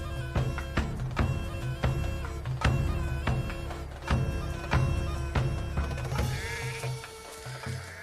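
A passing herd of goats in the Greek wilds bleats repeatedly in overlapping calls of varying pitch, close and fairly loud over a soft low background rumble.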